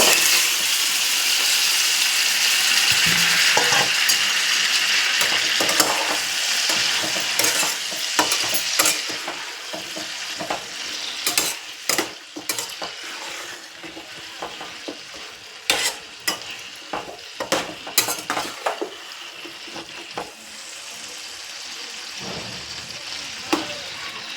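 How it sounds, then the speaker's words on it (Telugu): Chicken legs fry in hot oil with a steady, loud sizzle, broken by sharp scraping clicks and rattles of a utensil stirring against the pan, and no talking. "ఆయిల్ వేడైపోయింది ఇప్పుడు ఈ కాలు వేసేదండి"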